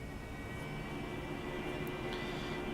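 An AV-8B Harrier jet engine in DCS World, heard as a steady, moderately loud turbine roar with a faint high whine running continuously through the short stretch, no voices.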